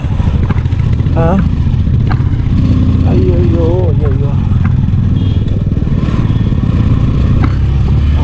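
A motorcycle engine labors continuously and loudly uphill, close by, while a person exclaims over the steady roar.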